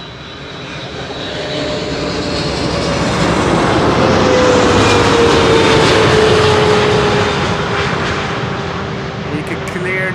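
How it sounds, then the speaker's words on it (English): A large airliner passes close by on Schiphol's Kaagbaan runway 06, its jet engines building to a loud, broad roar with a falling tone that then slowly fades, and a voice talking over it. "You can clearly hear the difference in sound when the 300 passes by."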